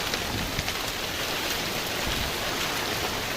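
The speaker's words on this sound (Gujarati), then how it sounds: "આજે તો બહુ પડેલો છે સરસ વરસાદ પડેલો છે" Heavy rain pours steadily, a dense continuous hiss with scattered drop impacts close by, no voices.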